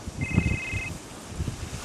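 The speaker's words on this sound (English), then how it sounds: "Oh, my phone's ringing." A mobile phone rings outdoors on a ski outing, giving one short, thin electronic tone burst over wind and rustling background noise.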